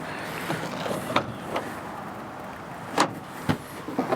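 A van's sliding door clunks and slides open to a positive stop, with a few sharp mechanical knocks and latch clicks, close by, with quiet pauses between.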